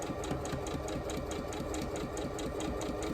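A domestic sewing machine stitching quilt gnome block pieces runs quietly and steadily, with an even rapid rhythmic purr that carries on alone throughout, close by.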